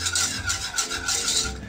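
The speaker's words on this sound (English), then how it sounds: "let's just whisk it on up" Milk being whisked into butternut squash mac and cheese, a brief, close, rhythmic scraping and swishing in quick repeated strokes.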